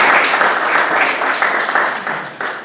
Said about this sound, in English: Please give a applause to them.